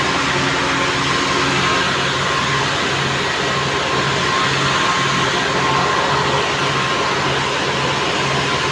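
A knitting machine running steadily with a dense mechanical whir and faint tonal hums, loud and continuous throughout with no voices.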